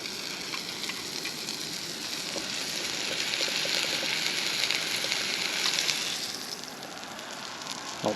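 Steak sizzling over an outdoor cooking fire gives a steady, dense hiss that swells a little midway and carries on alone without any voices.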